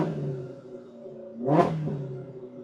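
A Polaris RZR Pro R with an MBRP slip-on muffler blips its engine once from idle, a sharp, fast rev that climbs and drops back to a steady idle burble.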